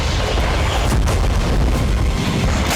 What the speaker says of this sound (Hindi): रूस के हमले से यूक्रेनी टैंक में जबरदस्त विस्फोट हुआ।